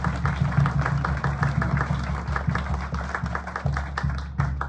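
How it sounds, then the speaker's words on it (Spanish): Modest applause from a crowd at a ceremony marking completed asphalt paving, sidewalks and curbs on a street, a steady patter of scattered clapping over a low hum of background noise. "Un aplauso por esa gran obra intervenida."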